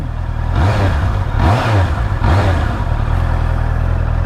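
A 2019 Honda CBR650R motorcycle engine runs loud and close, its idle rising and falling through three quick throttle blips, the rev swells spaced about a second apart.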